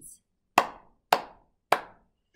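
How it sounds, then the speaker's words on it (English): Three crisp hand claps, evenly spaced and close, each followed by a short decay into silence, during a children's storytime sing-along at home. "Let's clap our hands."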